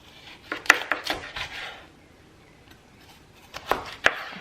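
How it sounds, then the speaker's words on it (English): A knife dices hard carrots on a cutting board, with a few sharp clustered chops and knocks, a pause, then another short burst of cuts, close and fairly crisp. "Next, we're going to dice the carrots."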